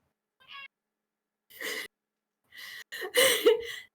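A pet cat meows in short, close calls: one brief cry, a second a moment later, then a louder cluster of mews near the end, with quiet gaps between and no one talking.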